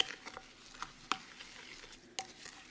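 Jalapeño chili oil ingredients being stirred together in a container, a faint soft patter of scattered taps and clinks with quiet pauses between them, no talking.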